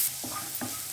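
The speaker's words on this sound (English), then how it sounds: "we'll be adding finely chopped onion, Fry till it becomes light golden color." Finely chopped onion frying in a pan for an ivy gourd curry, a soft steady sizzle broken by three quick scraping stirs of a spoon, close and alone.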